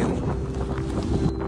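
Wind at the Yongpyong ski resort in wintry South Korea rushes in a steady broadband gust, buffeting close against the microphone for a brief moment.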